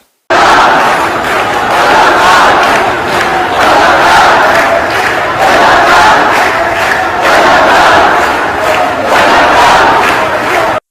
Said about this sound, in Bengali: তারপরে সেই ঐতিহাসিক মিছিল শুরু হলো ঢাকা বিশ্ববিদ্যালয়।